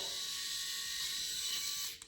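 A BaldiePro electric head shaver runs over a scalp, giving a steady, close, high-pitched mechanical buzz that holds evenly for about two seconds with no talking, then cuts off abruptly.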